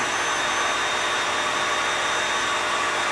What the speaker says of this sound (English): Once you have that, you drill.